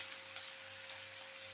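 Sliced onions fry on a very low flame in a pan, giving a soft, even sizzle with a steady faint hum beneath it.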